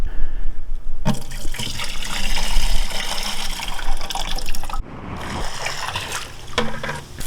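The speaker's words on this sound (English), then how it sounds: "I'm going to go ahead and pour the acid in here" Acid poured from a CircuPool RJ Plus salt cell into a bucket makes a steady, loud splashing flow for about seven seconds, with a short break partway through before the pour resumes.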